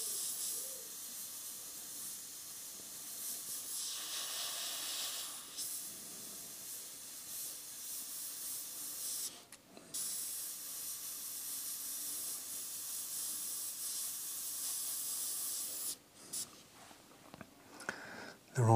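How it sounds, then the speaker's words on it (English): An airbrush hisses steadily as it sprays paint onto a portrait of Bob Marley, a continuous close hiss that swells and thins in short bursts and stops briefly twice. "So you're scribbling with the airbrush."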